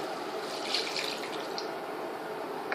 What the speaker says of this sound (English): So what I do is I pour in some water.